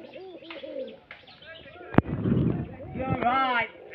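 Giribaj pigeons in a Rajshahi loft give a few low, rounded coos near the start, then a sharp knock and a rush of rustling, with more throaty calls toward the end.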